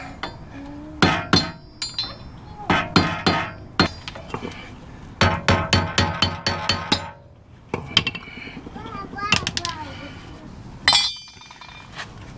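Sharp metallic hammer blows strike a punch against a rusty wheel hub part, coming in quick clustered bursts of ringing clinks with short pauses between groups, close and loud.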